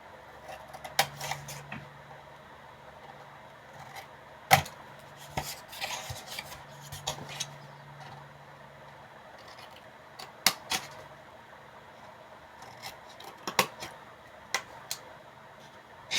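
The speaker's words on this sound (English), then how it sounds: "So I'm just slightly going to do a miter angle into the tip of that chipboard and cut away" A blade cuts mitered corners off chipboard for a craft box, making sparse, sharp clicks and taps at irregular intervals against a quiet background.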